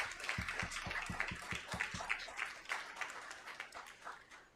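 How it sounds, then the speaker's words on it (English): A council meeting audience gives a round of applause for a ballet award winner, a modest crowd clapping in fairly quick, uneven bursts at a moderate distance, holding steady for several seconds. "let's give Nadia a round of applause"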